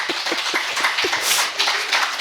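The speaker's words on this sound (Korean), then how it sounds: "아, 박수를 치려면 크게 치소." Scattered, light audience clapping at a Buddhist monk's lecture hall: soft, uneven hand claps that stay thin and never swell into full applause.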